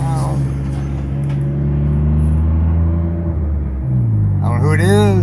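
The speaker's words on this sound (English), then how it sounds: "it looks like a big truck there of some kind" A large truck drives along the main street of Quartzsite, Arizona, its loud, steady engine rumble close and continuous, rising in pitch toward the end as it passes.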